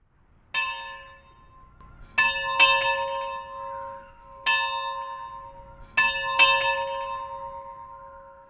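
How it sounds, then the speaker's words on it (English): Bell of an original 1892 one-room schoolhouse pealing in clear, ringing strokes: single and double strikes at intervals, each with a long, bright decaying ring, fairly near and alone. "listening to the peal of the bell of the original one-room schoolhouse"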